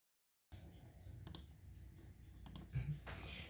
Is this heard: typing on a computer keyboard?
yes